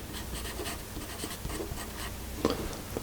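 A Dixon Oriole HB No. 2 pencil scratches across paper in a steady, soft scrawl up close, with small taps of the point amid continuous faint graphite scraping.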